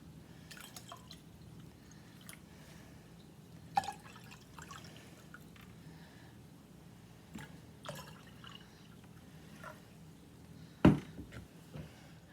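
Water added to a jar holding paper towels for a rainbow science experiment: sparse, close drips and small splashes spread out over a quiet background, with one sharper splash near the end.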